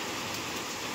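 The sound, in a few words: heavy rain falling outside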